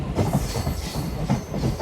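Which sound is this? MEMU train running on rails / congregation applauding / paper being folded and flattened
MEMU train running on rails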